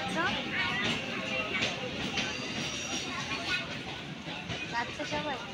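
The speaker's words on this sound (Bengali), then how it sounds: "ট্রেন ছেড়ে দিয়েছে" A train pulls away from a station platform, a steady rumble and rattle of railcars continuing throughout beneath chatter and a voice talking over it.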